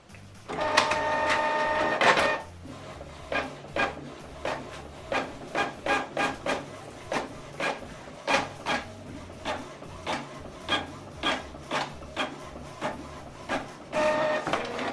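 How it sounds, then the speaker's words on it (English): A Canon PIXMA inkjet printer runs a document job fed from the front tray: a steady mechanical whir at first, then a long series of regular clicking, ratcheting carriage passes, close and clear, with no talking. "Now this document is printing."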